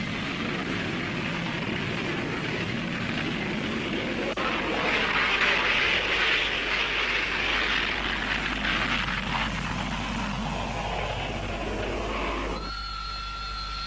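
An AV-8 Harrier jet makes a conventional takeoff, a loud, continuous broadband jet roar that swells and builds for several seconds before cutting to quieter steady tones at the end.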